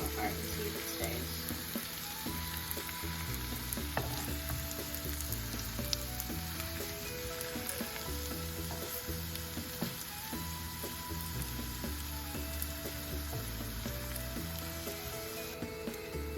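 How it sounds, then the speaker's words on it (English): A heart-shaped potato patty fries in a pan, steady close crackling and sizzling that runs throughout beneath a faint hum. "You're gonna let that fry there for about 5 minutes"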